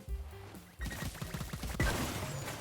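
A gun turret firing in an online team shooter game, a rapid burst of loud repeated shots followed by a harsh crashing blast, close and dense, with no voices over it.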